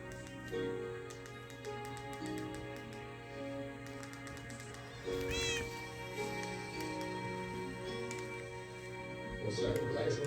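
Cats meow in the video game Minecraft, around an abandoned village, repeated synthetic mews popping up over steady game background sounds while someone talks over them throughout.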